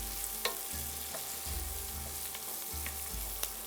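Meat sizzling and frying in oil in a pan for a Macedonian mandža stew with sausage, a steady close crackle with occasional brief stirring clatters and no voices.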